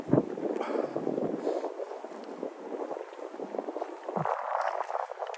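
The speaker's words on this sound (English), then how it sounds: "Little freshening, little fresh wind right there." A fresh gust of winter wind rushes outdoors at the New York Botanical Garden, buffeting the microphone with a steady, loud roar that swells and dips, and no voices are heard over it.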